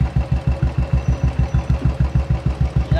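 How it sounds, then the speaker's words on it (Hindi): Motorcycle engine idling close up with tappet noise: a steady, rapid, even thumping pulse with a light metallic ticking over it, lasting the whole stretch, with no voices. "ये जो होता है ये टैपेट के नॉइस होता है"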